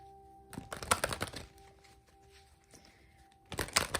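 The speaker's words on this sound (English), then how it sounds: "I'm going to shuffle the cards." Tarot cards are shuffled close up in two quick bursts of crisp, rapid riffling clicks with a quiet pause between them, over a faint steady hum.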